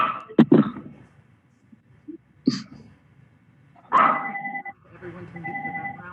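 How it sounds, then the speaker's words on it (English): A dog barks in short bursts near a microphone during a remote special city council meeting, with a couple of sharp yaps early on and more barking and noise later, mixed with voices. "We mute the dog."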